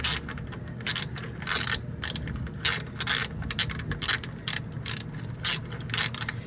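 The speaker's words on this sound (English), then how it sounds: "And then I'll just grab my ratchet and tighten it down the rest of the way." A ratchet tightens the ABS wheel speed sensor bolt on a 1993 Cadillac Fleetwood Brougham, giving rapid bursts of close metallic clicking in a steady back-and-forth rhythm that repeat throughout.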